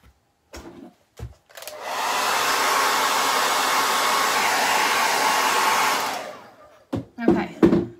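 A hair dryer blows steadily for about four and a half seconds to dry paint on a school chalkboard sign, close and loud, framed by brief clicks and handling knocks.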